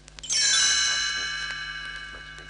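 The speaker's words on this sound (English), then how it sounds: "You will know it is time to turn the page when you hear the chimes ring like this." A single bright chime strikes and rings out, its clear metallic tone slowly fading over a couple of seconds with no talking.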